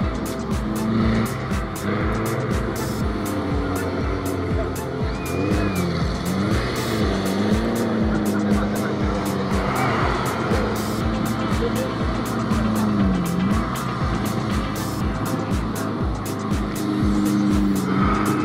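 Several UAZ off-road 4x4 vehicles race at a Monster Trophy event in Pryluky, with engines revving steadily and loudly up and down throughout and tyres occasionally squealing, as a continuous close roar with no talk.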